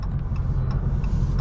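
A 2020 Dodge Charger Daytona Hellcat Widebody rolls slowly into a parking spot, its low engine rumble steady and close throughout the short stretch.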